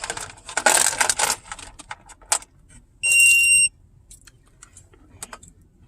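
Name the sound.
Zmoon tire pressure monitor low-pressure alarm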